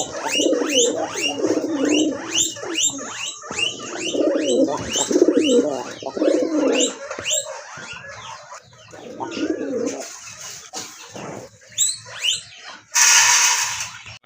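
A pair of marked pigeons coo repeatedly in close, throaty rolling phrases, with short pauses between bouts, while other birds chirp and a brief burst of hiss-like noise sounds near the end.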